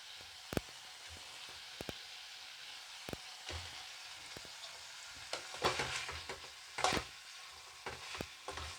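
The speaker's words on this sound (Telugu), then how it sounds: "ఇలా బాగా మిక్స్ చేయండి" Chicken lollipops are tossed in a pan with a sauce of soy sauce, tomato ketchup and garlic. A utensil scrapes and knocks intermittently over a soft, quiet sizzle, close by and without speech.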